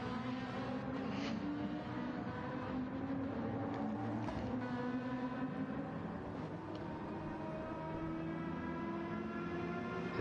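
Lamborghini race car in a GT racing video game at the Red Bull Ring, a steady engine drone with shifting pitch running throughout, carrying faint popping bursts, moderately quiet and with no talk.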